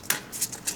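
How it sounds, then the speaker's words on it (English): A tarot card deck is shuffled overhand by hand, giving a few brief soft rustling swishes at uneven intervals, close and quiet. "the overhand shuffling is good too"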